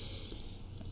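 A computer keyboard gives a few quick, faint clicks of typing close by over a low steady hum.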